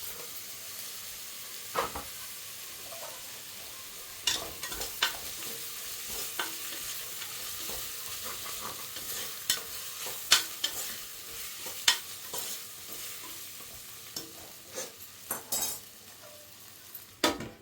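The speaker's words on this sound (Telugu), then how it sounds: "ఇలా కాసేపు అయిపోయిన తర్వాత టమాటా ముక్కలు వేసుకొని వేపుకోవాలి" Tomato pieces frying in a pan for natukodi pulao, a steady sizzle broken by repeated scrapes and clinks of a spoon stirring against the metal, close and alone with no voices.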